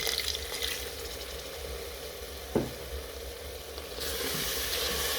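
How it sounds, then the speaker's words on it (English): Spices frying in a pan with a splash of water added for a beef curry, giving a steady close sizzle throughout, with one brief clink near the middle and a brighter, louder hiss toward the end. "You go on and cook the spices and get them to a cooked state"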